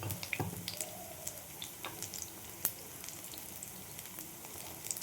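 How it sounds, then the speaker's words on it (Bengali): Faint, low sizzle of shrimp frying in a pan over a low flame, with sparse pops and crackles over a quiet background. "কেননা চিংড়ি মাছ খুব তাড়াতাড়ি ভাজা হয়ে যায়"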